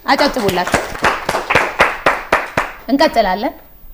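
Studio audience claps for a young contestant on an Ethiopian children's quiz show, a series of sharp broadband hand claps over about three seconds, with a voice talking before and after.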